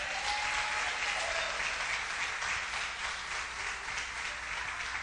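A church congregation claps and applauds loudly and continuously, a dense wash of hands filling the whole stretch with no talking over it.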